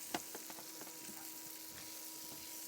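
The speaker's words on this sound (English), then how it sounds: "Browning off these onions." Onions brown on a hot plate at a cooking competition, a steady quiet sizzle with a few light scrapes and taps of a utensil near the start.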